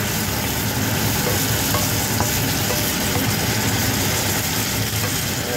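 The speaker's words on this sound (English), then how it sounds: "Now what I'm going to do is add Holland House red cooking wine" Holland House red cooking wine sizzling in a pan with steak and mushrooms, a steady, loud, dense hiss that holds evenly for several seconds with no break.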